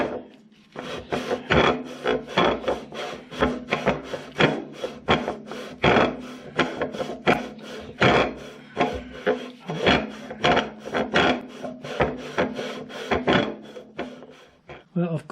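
A file rasps a Fordson Major engine cylinder liner in steady, evenly paced strokes, each close, loud scrape following the last in a regular rhythm for the whole stretch.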